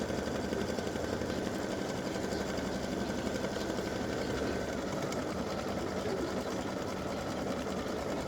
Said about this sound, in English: it's going to do the satin stitching all the way around